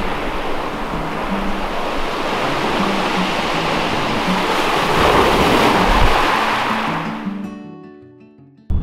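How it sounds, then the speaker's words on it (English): Waves wash up over the pebbles of Singing Stones beach and rattle as they trickle back down, a loud, close, continuous roar and hiss that swells and then fades away. "You can hear the noise, which is obviously why it's called Singing Stones, as the waves kind of go up the stones and then trickle back down."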